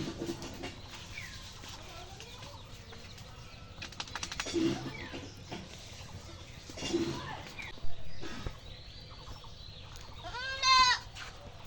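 Black Bengal goats on a farm, some penned in a shed and others outside, giving a few scattered bleats near and far amid quiet farmyard ambience, with a loud bleat near the end.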